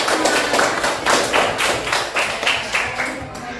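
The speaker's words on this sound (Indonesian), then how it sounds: "Ya, beri tepuk tangan untuk kelompok." A classroom group applauds together, the claps coming in a series of uneven bursts that are moderately loud and close, with light background noise and no clear speech.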